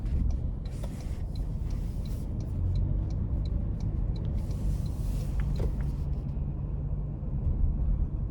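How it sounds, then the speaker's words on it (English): A 2025 Toyota Land Cruiser 1958 with the i-Force Max powertrain pulls hard in sport mode onto an interstate, giving a steady low engine rumble with road noise and faint cabin ticks that hold at a constant level. "I'm gonna try to give this thing a nice pull, put into sport mode, getting on the interstate."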